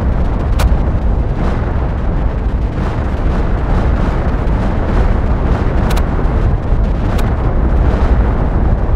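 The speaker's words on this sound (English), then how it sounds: "Listen to all those explosions." A sustained barrage of explosions in the Planet Crafter video game, rolling booms layered thickly with occasional sharp cracking pops over nine seconds, loud and continuous with no talking.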